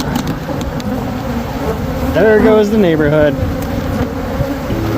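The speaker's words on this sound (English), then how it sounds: "Look at all these bees." A dense, steady buzzing of many honey bees surrounds the listener, close and loud, while a person speaks briefly over the swarm.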